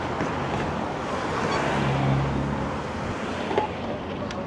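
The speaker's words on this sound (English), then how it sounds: "Getting windy again." Wind rushes and buffets against the microphone in a steady roar on a street in Washington, D.C., with faint traffic noise beneath it.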